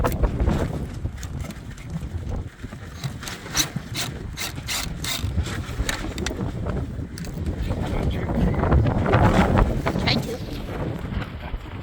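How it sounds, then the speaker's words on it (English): Strong wind buffets a microphone outdoors in Quartzsite beside a 1993 Fleetwood Southwind motorhome, giving a continuous loud roar with gusty rumbles and crackling bursts throughout. "It's windy, we won't be able to hear anything."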